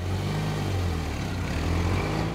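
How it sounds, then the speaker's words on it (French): A car engine runs at a steady low hum with a faint rising rev, close and continuous, with no voices. "Elle démarre la voiture, elle allume les phares, passe la marche arrière et elle commence la manœuvre."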